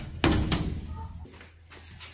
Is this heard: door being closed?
yes